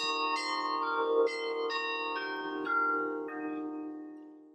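Carillon bells at Our Lady's church in Gloucester ring out in a slow sequence of overlapping, resonant tones, each strike lingering and decaying into the next.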